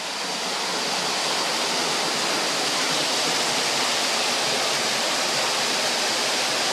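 Saeng Chan waterfall in Ubon Ratchathani, swollen in the rainy season, pours in a loud, even, continuous rush of falling water heard up close with no voices.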